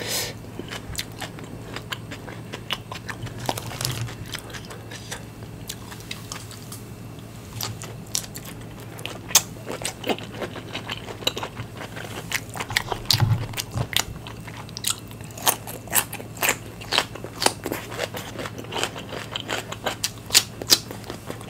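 Crispy fish in a Thai spicy green mango salad with shrimp being chewed close up, with crunchy bites and wet mastication coming in dense, irregular bursts throughout and no talking.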